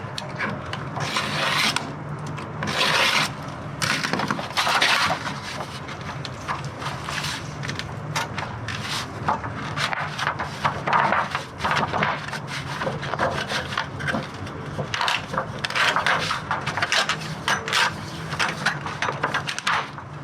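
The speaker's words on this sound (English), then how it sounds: "that is how you cut a strip of metal out of this aluminum" A tool cutting a strip from aluminum sheet during a vintage truck camper restoration; continuous close rasping and scraping in uneven bursts, rough and grinding, with no talking.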